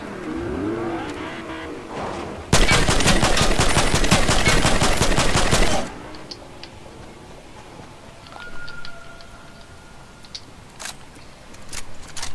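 A sustained burst of rapid automatic gunfire in a video game, loud and close for about three seconds, set among game engine hum and scattered quieter shots and clicks, no talking.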